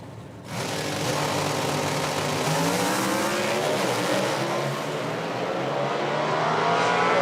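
Nitro-burning 1968 Barracuda drag race cars launching down the strip at an IHRA outlaw event in Hebron, a sudden deafening roar after a brief quieter start, sustained and rising as the cars pull away.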